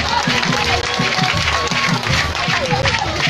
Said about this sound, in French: Il faudrait l'applaudir très fort.